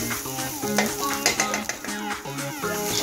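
Brussels sprouts sizzle steadily in a hot pan as a utensil stirs them, scraping and clattering against the metal in short repeated strokes, close and fairly quiet.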